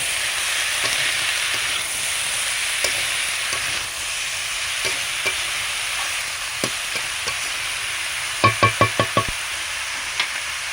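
Ash gourd sautéing in a covered pan with turmeric and chili powder, a steady hissing sizzle throughout, broken by scattered soft taps and a quick cluster of sharp clicks near the end.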